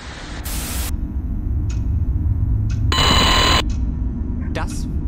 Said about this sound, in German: Ich kann den Wecker nicht ausmachen.